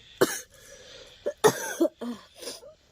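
A person coughs several times in short, harsh bursts close by, with a throaty clearing sound between them and no speech.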